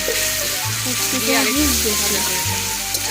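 Loud, steady sizzling of ginger-garlic paste frying in a hot pan, with a low hum and occasional stirring scrapes.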